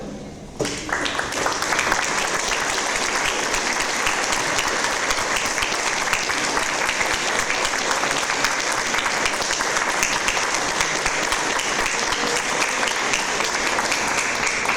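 An audience at a graduation ceremony applauds the standing graduates, a broad sustained wash of clapping that starts sharply and holds at an even level for nearly fifteen seconds.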